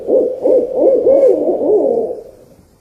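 An owl hoots in a repeated series of soft, wavering calls, close and clear with no other sound.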